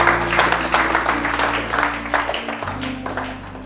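A church congregation claps and cheers in acclamation of the Lord during a sermon, a steady crowd applause with voices and a sustained instrument tone underneath.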